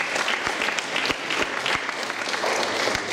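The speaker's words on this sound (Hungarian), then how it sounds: "Azért egy tapsot ők is megérdemelnek." Sustained applause from an audience at a youth football club awards event, dense steady clapping with a few sharper individual claps standing out, loud and continuous.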